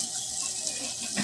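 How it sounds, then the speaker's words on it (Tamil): Tamarind is squeezed and dissolved in a bowl of water by hand, giving a brief, soft, close sloshing and trickling of water. "இப்போ நம்ம புளி தண்ணியை நல்லா கரைச்சிக்கலாம்."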